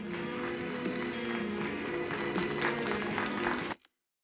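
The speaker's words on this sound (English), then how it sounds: "And everyone's cheering for me." A crowd cheers and applauds in the video game Alan Wake 2 (Night Springs), a dense, steady roar of clapping and voices that holds loud for under four seconds before cutting off abruptly to silence.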